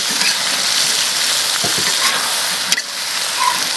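Bean sprouts stir-fried in a hot wok with chili: a loud, steady, close-up sizzle with a few scraping stirs and clicks, and no talking.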